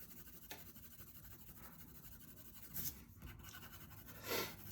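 Soft graphite pencil shading on paper while darkening a sphere drawing, a faint steady scratchy rasp with a few brighter strokes, close and quiet with no voices.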